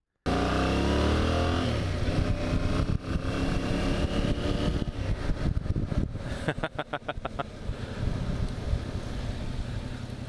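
Yamaha Tracer 7 motorcycle being ridden outdoors, its engine a steady close drone mixed with strong wind buffeting across the run, a brief series of sharp pulses near the middle, no talk.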